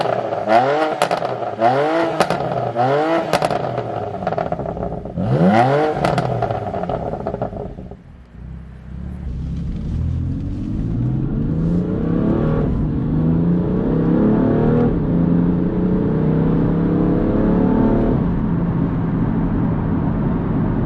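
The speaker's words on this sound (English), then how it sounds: "I'm going to jump out and rev it, because this sounds quite brutal compared to, like say, the stock M4." BMW F80 M3 Competition Pack engine revved hard while stationary, with several sharp blips followed by a long sustained rev that rises and holds, loud and close with crackle and no talking.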